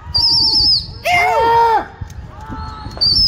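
Pigeons in a rooftop flying contest in Amroha, with clear chirps and calls standing out in short bursts over crowd noise and voices nearby, plus some wing flutter.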